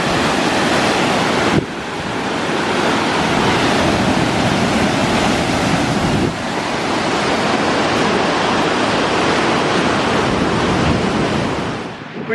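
A waterfall in the Absaroka-Beartooth Wilderness roars with a loud, steady, broadband rush of falling water that continues unbroken throughout, with some wind buffeting on the microphone.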